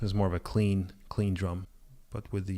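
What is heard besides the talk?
No everyday noise stands out behind the speech.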